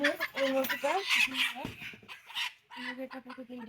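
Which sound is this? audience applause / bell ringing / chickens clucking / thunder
chickens clucking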